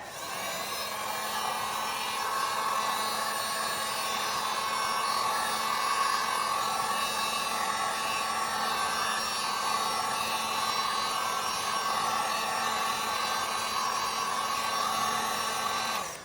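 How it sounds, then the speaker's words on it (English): A steady, loud blowing whir of a heat gun warming adhesive for a Tesla Cybertruck carbon fiber rear screen frame runs continuously without pause, with no talking. "I like to use a heat gun, go over it"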